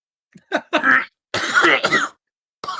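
Several harsh, close coughs and retching gags in quick bursts, separated by brief silences, with one final cough starting at the end.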